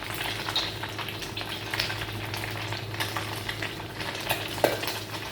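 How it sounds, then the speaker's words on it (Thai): Catfish pieces frying in hot oil at about 100 degrees, a steady dense sizzle with small crackles and one sharper pop, close and continuous. "แล้วก็เริ่มทอดเลยครับ ใส่ปลาดุกลงไปครับ"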